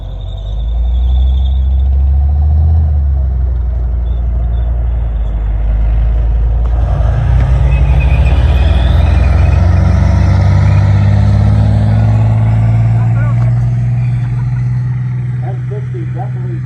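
An M60 and a Leopard tank drive and pivot around a competition arena, their deep engine rumble and track noise loud and continuous throughout, with a rising whine and faint squeal as they turn, under a commentator's voice.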